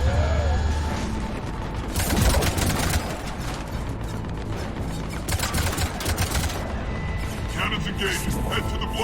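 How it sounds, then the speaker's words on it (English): Cannon fire and clanking turret machinery in a Mass Effect 3 battle on Omega, a loud, continuous barrage of bursts and mechanical rattles layered with voice chatter throughout. "Cannons engaging."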